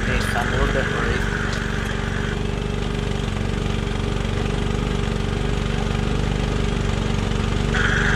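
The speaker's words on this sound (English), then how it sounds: "Bob's brand new 4-inch dredge from Keene. It got the new air compressor on there that's working really well" A new 4-inch Keene gold dredge with its air compressor runs outdoors by a creek, a loud steady engine drone with a fast mechanical chug that lasts the whole time, with a voice speaking over it.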